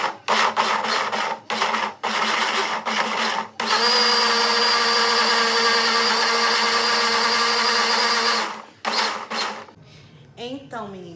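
A loud kitchen blender whirs in bursts, then runs steadily for several seconds before stopping, with a brief rattle afterward.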